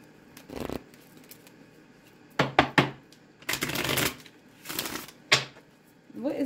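Tarot cards are handled and shuffled in several short, crisp riffling bursts separated by quiet pauses, close and fairly loud, with no speech.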